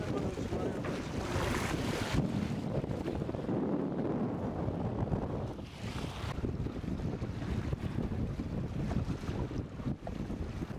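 An outrigger pirogue under sail on the open sea, with steady wind buffeting and water rushing and splashing against the hull throughout, fairly quiet and continuous.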